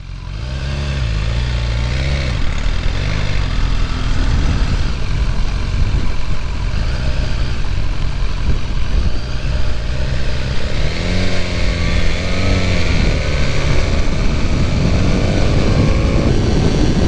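A 2020 BMW S1000R motorcycle ridden on the road, its engine droning loud and steady throughout with rising and falling revs and heavy wind rush.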